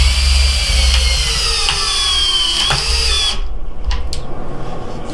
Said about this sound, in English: This is a 4-inch lag, so we're gonna go ahead and run this in there with this drill.